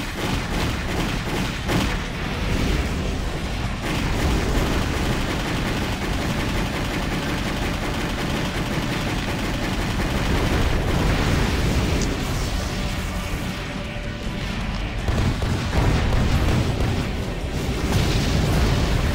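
Side rockets, the JC missiles, firing in a one-on-one video game match, dense rapid bursts of blasts and explosions roaring loud and continuous for nearly twenty seconds.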